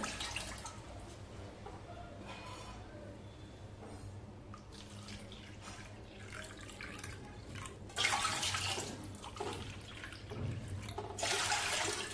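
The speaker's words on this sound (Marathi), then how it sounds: "तर आता इथे आपण 5 कप भरून पाणी घालूया." Water runs and splashes steadily into a pot for several seconds, with louder gushing bursts toward the end.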